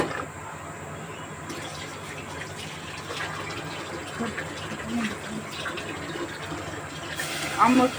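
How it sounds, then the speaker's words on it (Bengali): Water poured into a pan of sugar to make caramel for pudding runs as a steady, moderate trickle, with a brief louder splash near the end. "আম্মু একটু পানি দিয়ে নিচ্ছে এখন"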